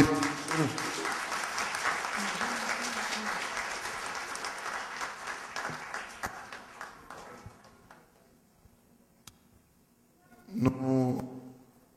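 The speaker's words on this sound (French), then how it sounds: "En nous, Seigneur, nous ayons un gros applaudissement." A church congregation at a Haitian Baptist service applauds, a dense sustained clapping that slowly fades out, followed after a pause by a short burst of voice and sound.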